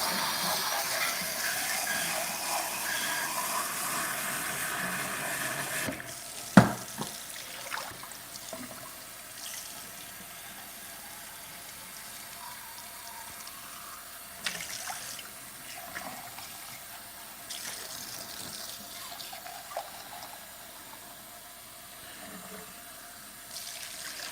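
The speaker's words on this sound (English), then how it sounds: "I'm going to put just a little bit of water in here." Water poured into a cooking pot for chili dogs, a steady low trickle and splash running for most of the stretch, with a few sharp clinks of the pot along the way and no talking.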